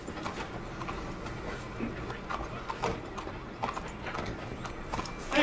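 A horse's hooves clip-clop steadily in the Red Dead Redemption video game on city streets of Saint Denis, a soft rhythmic walking beat amid light ambient game noise and some mechanical clatter.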